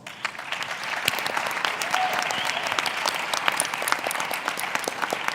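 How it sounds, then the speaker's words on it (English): An audience applauds panelists at the end of a plenary session, with dense sustained clapping from a large crowd filling the room steadily and fairly close. "give all of our panelists a round of applause"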